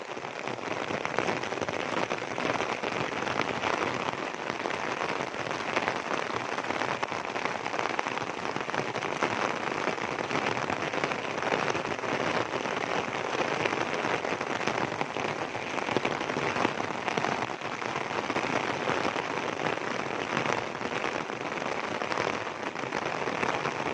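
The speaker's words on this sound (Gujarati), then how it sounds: "જો આજે વરસાદ થયો છે સાંજનો ટાઈમ છે" Evening rain falls in a steady, dense hiss for the whole stretch, close and even in level, with no voices over it.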